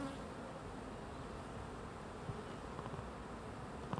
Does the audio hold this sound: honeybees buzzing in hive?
yes